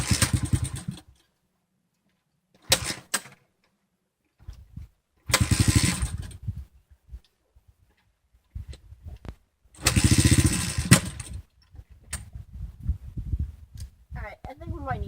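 A Honda CRF 110 motorcycle cranked cold without choke: several short bursts of engine turning over and catching briefly, each dying back into silence, with a longer sputtering attempt near the end.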